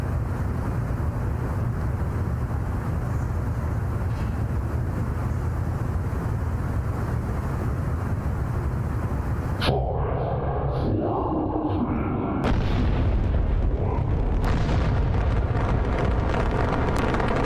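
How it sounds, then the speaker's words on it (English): Roar of an Atlas V rocket lifting off in a Roblox game, a steady loud broadband rumble that shifts abruptly partway through and continues as a rougher, crackling roar. "Liftoff of the Atlas V rocket carrying MBCargo-1 to the moon."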